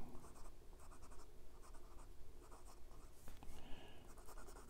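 A Leonardo Momento Zero Grande 2.0 fountain pen with a number 6 medium steel nib scratches across Clairefontaine 90 GSM paper, giving close, steady strokes in short repeated bursts with a soft papery rasp throughout.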